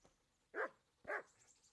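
A dog in a video game gives two short, clear barks about half a second apart against a quiet background.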